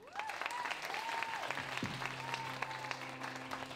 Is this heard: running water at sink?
no